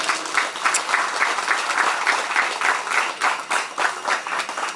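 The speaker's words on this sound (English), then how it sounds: "A round of applause for them too." A crowd gives the organisers of a Nagaland and Sikkim cricket event a steady round of applause, with the clapping pulsing in a loose rhythm throughout and no one speaking over it.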